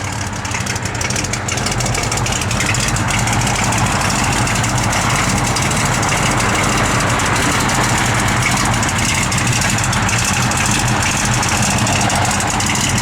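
A factory black 1972 Chevrolet Cheyenne truck idles close by, its engine rumbling in a steady loping rhythm from its cam, loud and continuous with no talk over it.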